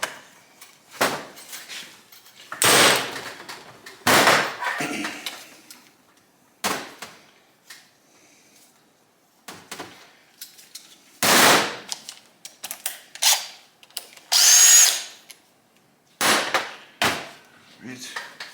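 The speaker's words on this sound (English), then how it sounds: "using the piston so that I can smash on this bolt here" A motorcycle piston from a 1971 Honda SL125 is struck against a bolt, giving a series of sharp, loud metallic clanks at irregular intervals, with short silences between blows.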